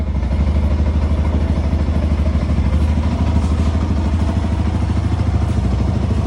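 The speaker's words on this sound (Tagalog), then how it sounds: "May start natin yung motor. Testing natin." A Sniper 150 motorcycle engine runs steadily up close, a loud rhythmic putter with mechanical clatter and no voices.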